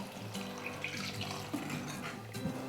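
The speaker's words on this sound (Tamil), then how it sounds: "இப்போ தேவையான அளவுக்கு தண்ணி சேர்த்துக்கலாம்" Water splashes steadily from a tap or jug into a pan of simmering broad-bean thokku, a soft continuous trickle heard close up for a couple of seconds.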